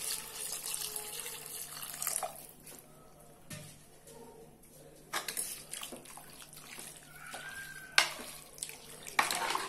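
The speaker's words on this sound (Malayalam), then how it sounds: "വെള്ളം ഒഴിക്കുമ്പോ ശ്രദ്ധിക്കേണ്ട കാര്യം നല്ല തിളച്ച ചൂടുവെള്ളം തന്നെ ഒഴിക്കാൻ ശ്രമിക്കാം" Boiling-hot water poured into a cooking pot for a goat boti curry, giving a steady, close splashing rush with a few louder sloshes and clinks, and no talk.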